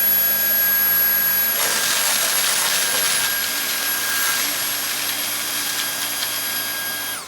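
A Dyson V8 cordless vacuum cleaner sucks up cereal from carpet, a loud, steady high-pitched motor whine with gritty crackling as pieces rattle up the tube, staying close and constant before easing slightly at the end.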